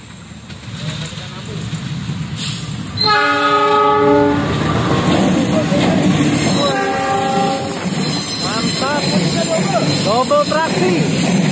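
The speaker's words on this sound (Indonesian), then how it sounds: "ini dia kereta parsel" A double-headed parcel train rumbles past up close at night in Indonesia with a loud, steady roar, its horn sounding in long tones and the wheels clattering rhythmically over the rails.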